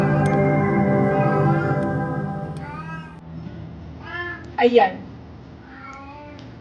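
A cat meows several times in drawn-out, wavering calls, close and fairly loud, while someone talks in between during a live selling stream.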